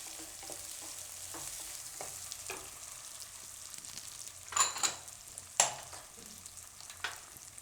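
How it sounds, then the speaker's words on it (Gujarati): Green peas sizzle in hot oil as they are stirred, a steady soft frying hiss broken by a few sharper scraping strokes near the end. "હવે આપણે વટાણા નાખીશું. તો વટાણા આ રીતે તેલમાં પાકી જાય."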